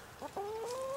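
A pet chicken clucks close by in a few short, rising calls, with no one speaking over them.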